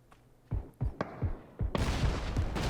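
Dragunov sniper rifle shots in the PUBG video game on the Karakin map, a series of sharp reports spaced roughly a half-second apart, followed by a denser burst of loud, overlapping gunfire.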